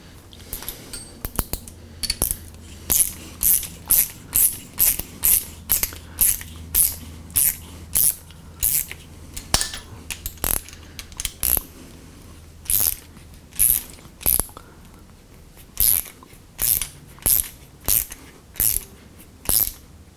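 A reamer is worked by hand through a threaded hole in an old lathe apron, giving a long run of evenly spaced, sharp ratcheting clicks and scrapes, close and repeated roughly twice a second.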